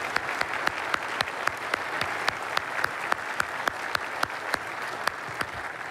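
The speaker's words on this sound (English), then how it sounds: "join me in a round of applause for Mesa's elected officials and our great city employees" A crowd claps steadily for several seconds at a State of the City address in Mesa, a dense patter of applause with a few sharper individual claps standing out.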